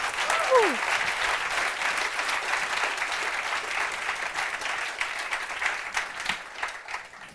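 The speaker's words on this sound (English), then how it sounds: "big round of applause for now" A media conference audience gives a sustained round of applause after a talk, a dense, even roar of many clapping hands with a brief whistle near the start.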